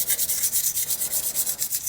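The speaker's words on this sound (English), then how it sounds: "So I've ended up resorting to a little scraper to" A small hand scraper works hardened grime off a lathe in quick, rhythmic rasping strokes, about eight per second, close up and with no talking.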